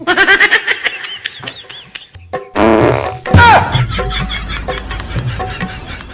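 A loud, sputtering fart-like noise sits among people laughing and talking, with squeaky bursts in the first seconds.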